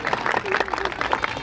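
Applause from an audience at a Christian gathering in India, a dense patter of many hands clapping together at steady strength, with cheering voices mixed in.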